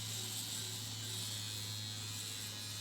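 A scalp micropigmentation tattoo machine runs steadily on its foot pedal, giving a continuous close electric buzz with no pauses or talking.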